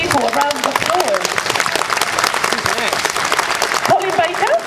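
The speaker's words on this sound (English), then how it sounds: "please, can you give these lovely people a round of applause?" Audience applause at a fan convention, a dense steady clapping crowd throughout, with voices and cheers mixed in and a few talkers audible over it.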